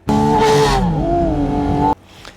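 A Porsche 718 Spyder RS engine, which revs to 9,000 RPM, revs hard and high, loud and close, its pitch climbing and dipping for about two seconds before cutting off abruptly.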